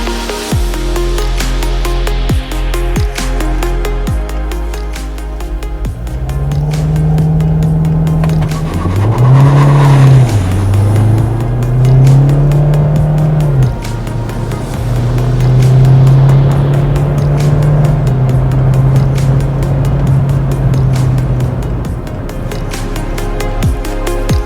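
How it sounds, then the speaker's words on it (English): Hyundai Tucson 2.0 diesel automatic driving on a track, engine note rising and falling through gear changes, with steady road and cabin rumble and no talk. "So, on the move in the Hyundai Tucson, 2-liter diesel, and I'm actually quite impressed so far."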